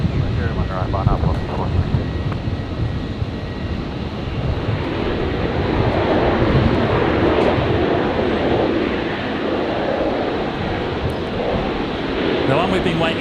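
A Boeing Dreamliner airliner on runway 01 right at Brisbane airport gives a continuous, broad jet roar with low rumble, swelling slightly as it goes on, mixed with outdoor wind buffeting at the microphone.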